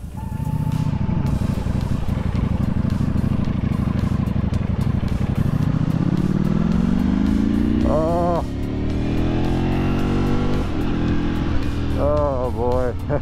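A 2023 Ducati Panigale V4R motorcycle engine drones steadily while riding, its pitch climbing as it accelerates, loud and close under wind noise, with a rider talking over it.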